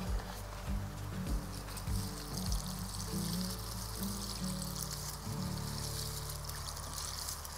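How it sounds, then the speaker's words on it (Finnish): Water pours steadily onto soil in a continuous splashing stream for several seconds, with a few low knocks and thumps underneath. "Noin, ja vettä päälle."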